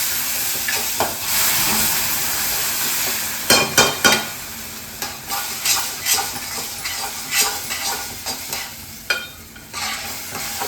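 Food roasts in a hot pan while being stirred with a metal spoon, a steady sizzle underneath repeated scraping and clinking strokes, close and fairly loud, no voices.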